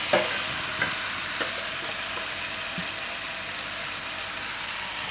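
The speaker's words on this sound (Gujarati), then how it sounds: "અને તેલમાં પાકવા દઉં થોડીક વાર. હળદર નાખી દઉં," Turmeric and spices frying in hot oil for a Gujarati dahi mirchi rice, giving a steady, close sizzle with faint stirring clinks throughout and no talking.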